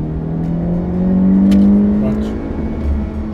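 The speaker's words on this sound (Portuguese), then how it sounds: "Este em alta rotação ainda se ouve um pouco mais." Engine of a 2017 Honda Civic with a turbocharged 1.0 or 1.5 litre engine hums at high revs while cruising on a motorway, a loud steady drone that swells slightly, with talk over it.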